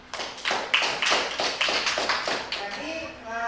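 Classroom applause for a student at IAIN Sultan Amai Gorontalo: a burst of clapping hands for about two and a half seconds that fades out, followed by a voice speaking.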